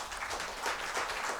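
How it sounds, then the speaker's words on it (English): Audience applause at a national conference fireside chat, a steady wash of many hands clapping together, fairly quiet and distant, with no voices over it. "Applause, please."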